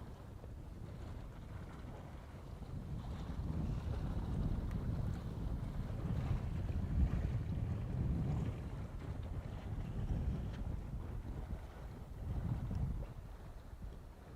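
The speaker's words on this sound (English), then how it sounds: "But it's kind of windy for the long exposure" Steady outdoor wind buffets the microphone with a constant low rumble and gusty swells, loudest in the middle and again near the end, with no voices over it.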